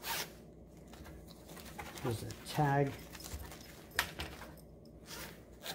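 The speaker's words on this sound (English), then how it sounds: "Zip it up." A zipper being pulled closed on the fabric cover of a Purple seat cushion, one brief zip sound close up, with a person speaking around it.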